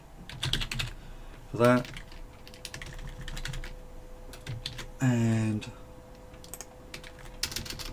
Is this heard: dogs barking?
no